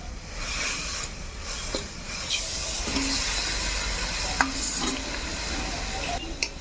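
Potato and eggplant hit a hot pan of fried greens and settle into a continuous hiss and sizzle, with faint scrapes and clinks of stirring scattered through.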